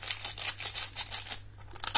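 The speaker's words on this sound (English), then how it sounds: "crinkle sound of plastic," Plastic being crinkled and crumpled close up, a dense rustling crackle that briefly pauses and then picks up again with sharper crackles.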